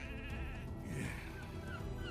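Sheep bleating in the ancient Roman city-building game Anno 117: Pax Romana, a few wavering bleats over a soft background bed, with no talk.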